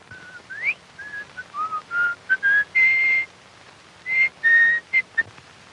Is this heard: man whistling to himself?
yes